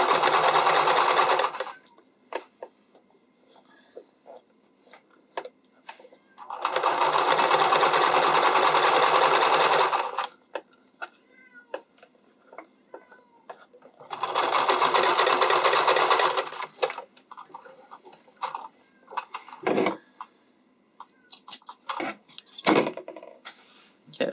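Sewing machine stitching underwire channeling on a bodysuit, three loud bursts of rapid stitching separated by pauses with small handling clicks and rustles.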